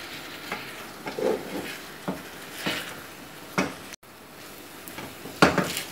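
Shredded chicken being stirred into a sauce in a pan for a chicken bread filling, with intermittent scraping and clattering strokes of a utensil against the pan, close and moderately loud, with no talking.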